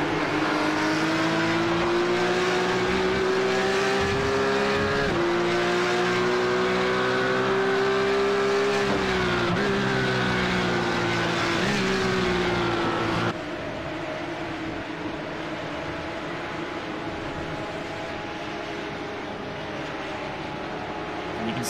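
Porsche race car engines drone steadily at Imola in a racing game, one engine note rising through gear changes before a cut to a lower, more distant hum of passing cars.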